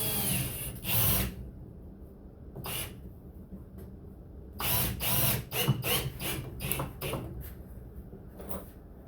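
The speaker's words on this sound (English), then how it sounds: "I'll be putting two screws in" Power drill driving screws into a wooden ski stand, several short bursts of whirring and clunks with pauses between them, close and fairly loud, with no voices.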